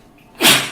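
A single short, sharp sneeze bursts out close by after a moment of near silence.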